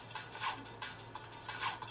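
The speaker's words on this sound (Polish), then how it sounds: "Ok, kolejna gierka Sonic Dash." Game sounds from Sonic Dash played on an Overmax Vertis 4011 You smartphone: quiet, quick ticking blips and jingles in a steady rhythm over a low hum, with no voices.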